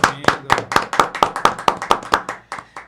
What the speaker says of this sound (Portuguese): com uma salva de palmas, nós recebemos aqui Dr. Juarez Harding